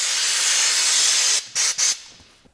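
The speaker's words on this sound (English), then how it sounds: "go ahead and blow everything out, make sure any debris that might have gotten in there" Compressed air blasting out hoses during an LS engine swap: a loud, steady hiss that cuts off, then two short sharp blasts before it fades away.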